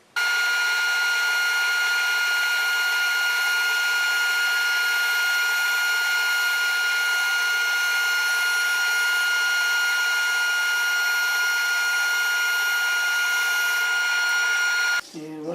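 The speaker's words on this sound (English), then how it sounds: "Let's try maybe cutting a piece maybe 10/1000 inch thick." A saw cutting a very thin strip of wood on an Accu Sled carriage, a loud continuous high-pitched whine held steady for the full cut before stopping abruptly.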